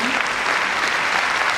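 Steady, dense applause from a theatre audience, a continuous wash of many hands clapping at even loudness with no break, sounding close and full.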